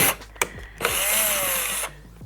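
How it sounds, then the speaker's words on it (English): A power drill fitted with a 1/8 inch bit bores holes in a kayak hull. Short bursts are followed by a sustained one-second whine at close range, with no voices. "I got a 1/8 drill bit that I'm going to use to start drilling all my holes"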